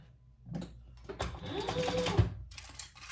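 A sewing machine stitching rows on a fabric travel jewelry case runs in a steady whirring, rapid-clicking burst of a couple of seconds between brief pauses, close and moderately quiet.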